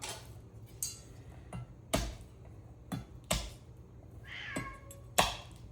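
A cat meows repeatedly indoors in a kitchen, about six short, sharp calls spaced roughly a second apart over a quiet low hum, fairly close and clear, with no speech.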